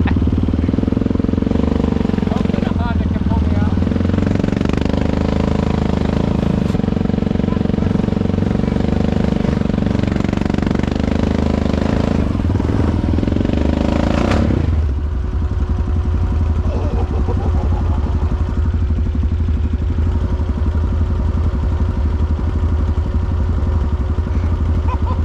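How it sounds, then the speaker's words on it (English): Honda ATV engine labors loudly while pulling out a stuck Can-Am, revving hard with clattering for about fifteen seconds before dropping to a steady idle. "the Honda's pulling out a Can-Am"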